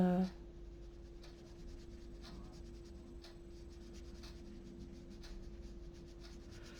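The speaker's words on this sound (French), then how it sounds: "Je frotte juste le papier." Soft, steady rubbing of paper against a surface, repeated light scratchy strokes under a constant low hum, close and fairly quiet.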